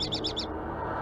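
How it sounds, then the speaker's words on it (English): Birds in the Nancy Drew game The Secret of Shadow Ranch, a quick run of four bright chirps in a row, clear and fairly loud, then stopping over a low ambient game hum. "Loud birds, too."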